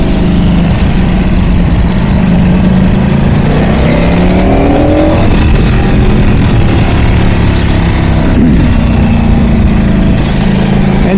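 A 2026 Ducati Panigale V4 Lamborghini motorcycle exhaust revs loud and close, its engine note swinging up and down in repeated rising and falling sweeps over a steady throaty drone.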